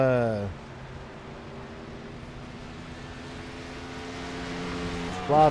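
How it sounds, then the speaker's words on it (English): A damaged race car engine with major motor damage after contact drones roughly and unevenly at a distance at Pocono, a sputtering mechanical hum that rises near the end as a voice briefly speaks. "That car sounds sick."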